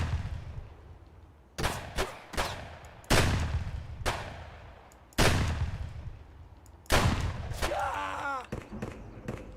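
Shotgun blasts in the video game Escape from Tarkov, around six loud booming shots at irregular intervals, each trailing off with an echo, over a low continuous outdoor ambience.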